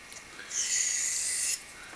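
A knife blade is drawn across a Shapton sharpening stone in one smooth, close, raspy honing stroke of about a second, with near silence before and after.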